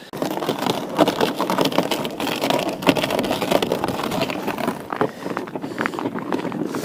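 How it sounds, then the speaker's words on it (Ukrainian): Strong wind buffets the microphone in loud, gusty rushes, a rough, continuous roar that rises and falls with no speech. "Вітер, звісно, жесть."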